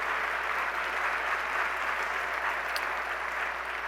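Steady audience applause fills a hall at a City University of New York address, dense and even throughout with no voices breaking through.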